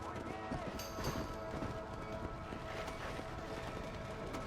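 Horse hooves galloping in Red Dead Redemption, a fast continuous clip-clop rhythm under game ambience and background sound, moderately loud throughout.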